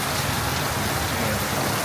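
Heavy rain pours down without a break, a dense, loud hiss that sounds close at hand and fills the whole moment.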